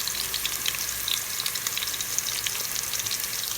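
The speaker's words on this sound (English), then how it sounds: "My technique for saute the garlic and the onion, I saute it in a low fire." Garlic and onion sauté over low heat, giving a steady, close, soft sizzle and crackle of frying with no voices.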